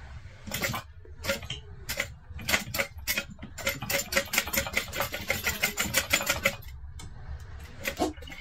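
A sewing machine stitches through a thick bag, up close in rapid rhythmic bursts of needle clatter with short pauses between runs.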